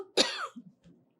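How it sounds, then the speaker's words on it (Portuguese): A single sharp adult cough bursts out loud and close, trailing into a brief throat-clearing rasp and a couple of softer breathy sounds afterward, with no talking. "corta um pouco que eu quero tossir."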